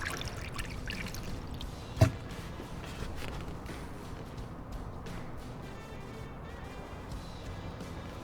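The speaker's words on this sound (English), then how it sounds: "we're going to start pouring in our coolant" Pre-mixed DexCool coolant poured through a funnel into a Chevy Impala's cooling system, a faint, steady trickle running under a soft background hiss, with a single sharp knock partway through.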